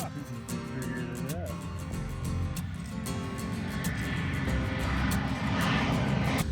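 A fixed-wing airplane rotates and lifts off the runway at a fly-in, its engine a steady, fairly distant drone that swells slightly as it climbs, with faint scattered voices nearby.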